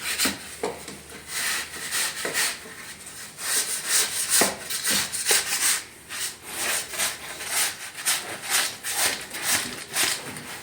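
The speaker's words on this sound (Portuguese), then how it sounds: "Agora ele vai sarrafear o outro lado, a outra mestra." A straightedge is dragged across fresh plaster render on a wall, making repeated scraping, rasping strokes in an uneven rhythm, fairly close and soft to moderate, with no one speaking.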